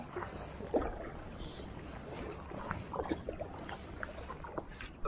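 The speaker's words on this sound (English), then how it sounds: "this is where the boats come in" Water and boat noise at an island pier as boats arrive, with soft wind, faint lapping and scattered knocks and clatters at a moderate distance.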